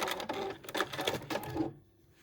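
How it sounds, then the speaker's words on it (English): Domestic sewing machine running a few short back stitches at the end of a zip seam, a quick close mechanical rattle in several bursts that stops abruptly into quiet. "when we get to the end, do a couple of back stitches again"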